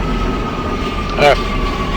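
A New York City subway train running in the OpenBVE train simulator game, a steady rumbling rail drone with a brief squealing swell in the middle, loud and continuous.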